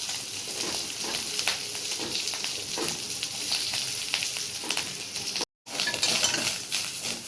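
Grated coconut and curry leaves sauté in a pan for a garlic curry, giving a continuous sizzle with repeated stirring scrapes and clinks of the spoon against the pan, close, with one brief dropout near the end.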